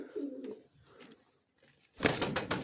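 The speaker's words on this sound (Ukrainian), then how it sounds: "Ось о, голубочка сидить." A pigeon coos softly inside a wooden dovecote with straw-lined nest boxes, a low murmuring call heard close, followed by a rustling burst of movement or wing flutter, with no talking.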